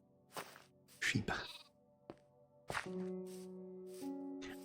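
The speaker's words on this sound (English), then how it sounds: "Sheep." Sheep bleat in a Minecraft world, a few short nasal cries at close range mixed with soft game thuds and steady tonal in-game music underneath.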